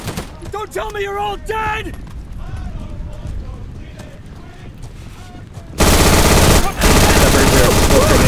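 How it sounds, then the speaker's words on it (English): Rapid machine-gun fire and gunshots aimed at Germans in a zombie war video game, sporadic at first under excited shouting players, then a loud, dense continuous burst of firing in the second half. "Yeah, don't stop shooting."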